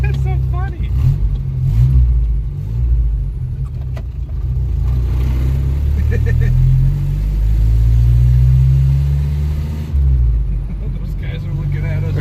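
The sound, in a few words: car engine revving and accelerating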